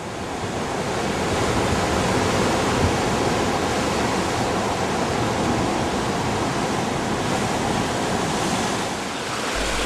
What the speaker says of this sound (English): the sea was considerably rougher, as you can see in this clip, as the waves crash in